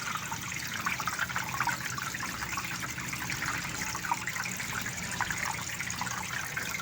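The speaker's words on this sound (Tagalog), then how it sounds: "Yan po, ayan, dumadaloy po ang tubig." Steady rushing and trickling water flows continuously through the pipes of a hydroponic NFT system, a close, even splashing stream with no voices over it.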